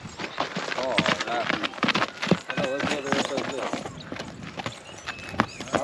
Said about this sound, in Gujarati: અને જો આ જ ઘોડીની વાત હું કરતો હતો કે આ રીતની છે ઘોડી